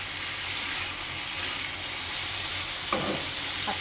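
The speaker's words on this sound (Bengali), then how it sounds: "এক ফোঁটাও জল দেবো না, এরকম ভেজে ভেজে মাংসটা নামিয়ে দেবো।" Steady, even sizzling of chicken pieces fried in oil over a low flame without any water, heard up close, with a brief stir-and-scrape near the end.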